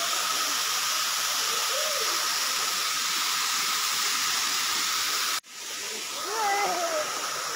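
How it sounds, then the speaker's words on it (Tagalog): Busay Falls in Guinyangan, Quezon roars as a steady, loud broadband rush of falling water, briefly cut off by a sharp dropout before resuming, with faint voices heard beneath it. "Ganda ng talon, oh. Busay Falls. Sa Ginyangan, Quezon."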